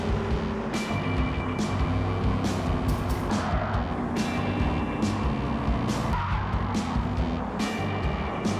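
Race car in Gran Turismo 7 sliding off the track, a steady loud engine drone with tire skid and squeal running throughout, punctuated by repeated sharp bursts.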